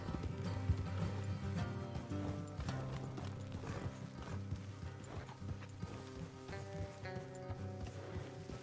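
Horses' hooves clip-clop steadily in a Red Dead Redemption game, ridden along a foggy off-road trail, with a neigh and some mechanical clicks over a dense, continuous musical score.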